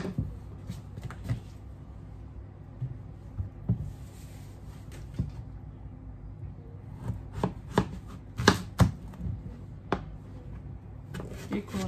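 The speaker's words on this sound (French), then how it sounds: "je vais attaquer le découpage de mes légumes" Knife chopping courgettes on a board: irregular, close, sharp knocks, sparse at first and then quicker in small clusters, with faint kitchen bumps between.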